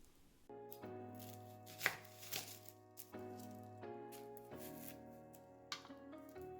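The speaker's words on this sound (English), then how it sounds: "we're going to dice one yellow onion" A kitchen knife dices a yellow onion for a summer vegetable soup, giving a quick run of crisp, close chops with brief pauses, over soft background music.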